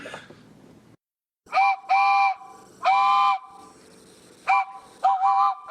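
Hands cupped and blown to mimic a train whistle, several hooting blasts of varying length separated by short pauses, loud and close.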